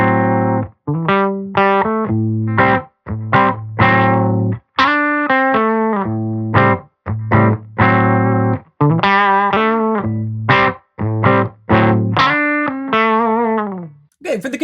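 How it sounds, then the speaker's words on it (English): A Revolta Regatta electric guitar with Righteous Sound pickups plays through a Silktone amp, a loud, close run of picked notes and ringing chords with a driven, saturated tone, heard alone without talk. "Silktone amp sounds like this."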